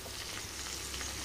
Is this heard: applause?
no